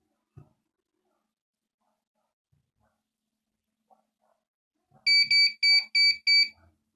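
A SHRXY GP Pointer II pinpointer metal detector held over a coin gives five quick, loud, evenly spaced electronic beeps after several seconds of near silence broken by faint handling clicks.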